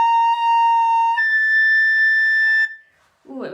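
A recorder squeaking because the fingers are not pressed down firmly, a held tone that jumps abruptly to a shrill higher pitch and cuts off, close, followed by a brief voice.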